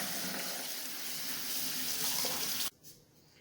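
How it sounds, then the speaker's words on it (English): Tap water running steadily into a sink while cooked rice is rinsed, a dense close hiss that stops abruptly near the end, leaving a faint quiet tail. "I am going to rinse the cooked rice under water to get rid of some of the starch and to cool it down a little"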